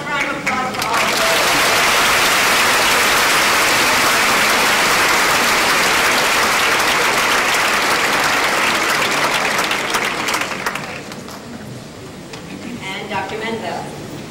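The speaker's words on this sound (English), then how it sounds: "One last round of applause for all of them" Sustained audience applause at a school staff recognition ceremony, a loud dense wall of clapping that holds for about ten seconds before thinning to scattered claps as a voice resumes.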